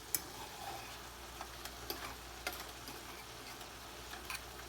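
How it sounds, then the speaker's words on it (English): Chicken sizzling and frying in a pot, a soft steady crackle with scattered faint ticks and pops, low and continuous throughout. "We got the chicken sizzling."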